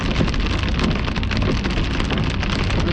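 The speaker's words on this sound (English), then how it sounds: "Incoming hail." Hail pounding down in the core of a storm during a storm chase, a dense, loud and continuous rattle of impacts with no pauses and no voices.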